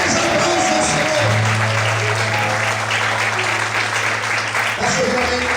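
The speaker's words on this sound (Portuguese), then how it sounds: "Mais aplausos ao Senhor." A church congregation applauds during a sermon with loud, sustained clapping. A voice calls out over it, and a low held organ or keyboard tone runs beneath the clapping through most of the moment.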